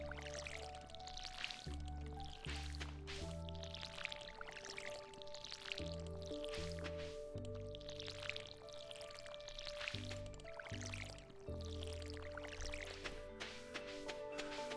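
A watering can pours over crops in Stardew Valley, a soft splashing trickle running steadily under bright looping farm music.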